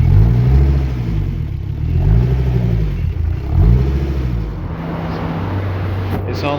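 A 5-cylinder Toyota MR2 MR-S engine idles and blips on a dyno, a low rumbling five-pot burble with repeated swells of revs rising and falling, close and fairly loud, ending in a clatter.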